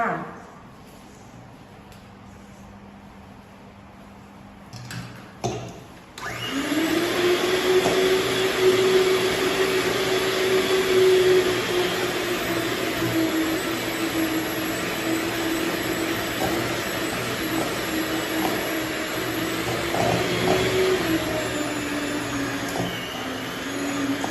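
An electric whisk churning cookie dough with butter and flour. A steady, loud motor whine starts after a few quiet seconds and runs on continuously.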